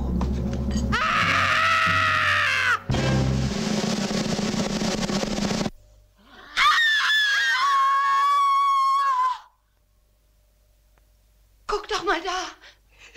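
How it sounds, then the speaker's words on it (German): Loud, drawn-out screams ring out in the 1976 Jack the Ripper film trailer, a woman's wailing cries in long bursts followed by shrill, wavering shrieks, with a voice speaking and a short pause of near silence between them. "Wer schreit denn da so?"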